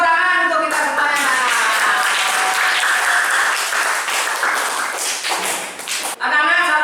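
Children in a classroom clapping together in a steady, dense round of applause lasting several seconds, loud and close, with voices mixed in before it fades out.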